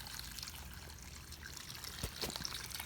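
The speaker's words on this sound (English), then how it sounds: "I'm just gonna pour right over here." Water with live minnows is poured out of a plastic jug minnow trap outdoors, giving a faint, steady trickle and splash with no voices.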